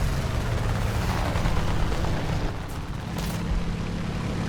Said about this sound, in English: That's why everything exploded.